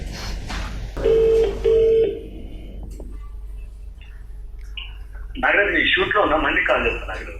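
A telephone is dialed to place a call: two short, steady beeps sound close by, followed by quieter background noise and then louder mixed sounds later on.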